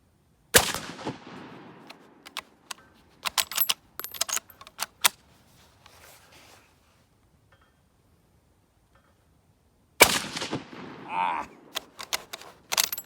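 A Savage 1899 rifle fires at an outdoor range. Two loud, sharp reports several seconds apart are each followed by clattering metallic handling and action noises, with no clear talking.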